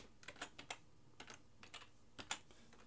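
Someone types on a computer keyboard in quiet, scattered clicks and taps, faint and close, with brief pauses between keystrokes.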